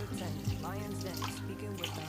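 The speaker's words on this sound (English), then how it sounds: "let me add water now actually" Water pours from a tap into a soup pot, a continuous gentle splashing stream heard close, with a voice speaking alongside.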